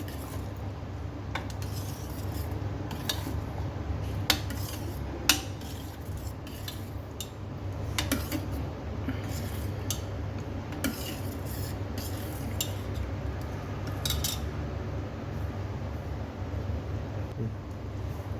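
A spoon stirs a wheat rava payasam mixture in a pot, giving irregular metallic scrapes and clinks over a soft, continuous background hiss, close and moderately loud.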